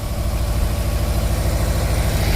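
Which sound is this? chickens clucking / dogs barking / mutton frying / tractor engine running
tractor engine running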